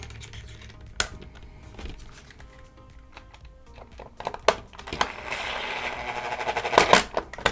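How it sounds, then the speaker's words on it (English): Longer screws are driven into a Dyson vacuum head with a T17 bit, heard as scattered plastic clicks and taps followed by a stretch of rising whirring and rattling, close up and without talk. "get these screws in, longer screws"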